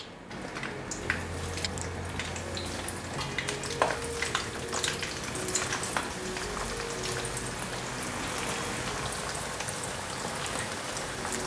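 Tofu frying in a wok of hot oil, a steady dense crackle and sizzle with scattered small pops, close and continuous throughout with no talking.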